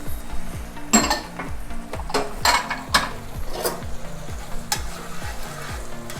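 Scallions go into chicken marsala sizzling in a cast iron pan, with steady frying hiss, scraping stirs and occasional metallic clinks of a utensil against the pan, loud and close.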